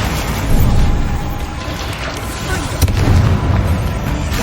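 The Bombarda blasting spell goes off in Hogwarts Legacy, a heavy rumbling explosion with booming low bursts and crackle that rolls on for several seconds.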